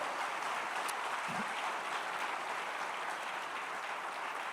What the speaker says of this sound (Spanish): Vamos a darle fuerte ese aplauso